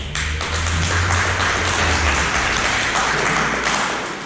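An audience at an annual general meeting applauds, a loud, steady wash of many hands clapping that holds throughout and fades slightly at the end.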